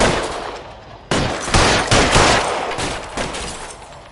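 Covering gunfire in the game L.A. Noire rattles in loud, dense bursts, with overlapping shots and echoing reports rolling on for several seconds.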